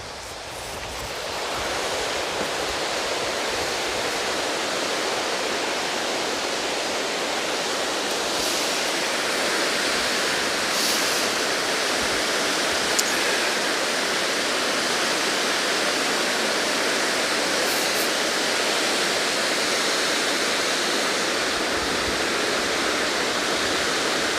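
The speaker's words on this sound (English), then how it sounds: "I want to leave you here with this beautiful waterfalls over here" Hraunfossar and Barnafoss waterfalls in Iceland roar in a steady, broad rush of falling water, constant and full from start to finish with no talking.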